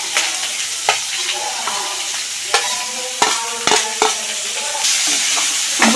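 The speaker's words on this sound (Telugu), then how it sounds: "ఉల్లిపాయ ముక్కలు వేసుకుంటున్నాం ఉల్లిపాయలు పచ్చిమిరపకాయలు కూడా వేసుకుంటున్నాం" Onions and green chillies frying in oil, a steady loud sizzle with repeated scraping clinks of a spatula stirring the pan, close up.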